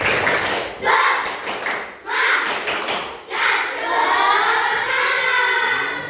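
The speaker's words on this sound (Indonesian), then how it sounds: "Oke, kita tes dulu semangat. Tepuk semangat." A classroom of children performs a rhythmic spirit clap in unison, loud bursts of patterned claps and slaps broken by short pauses, with children's voices chanting along over the clapping.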